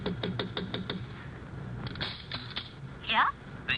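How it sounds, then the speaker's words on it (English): Knocking on a hotel room door in an old-time radio drama: a quick series of about six sharp raps, followed by fainter sounds and a short voice toward the end. "Sounds like somebody's knocking on her door."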